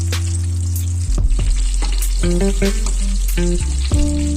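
Breaded chicken nuggets deep frying in hot oil give a steady, loud, close bubbling sizzle, with brief clinks and scrapes of a utensil moving them partway through.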